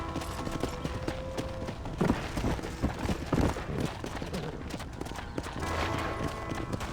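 Horse hooves clip-clop in a steady trotting rhythm over a busy Red Dead Redemption game soundscape, with a few louder thumps mixed in.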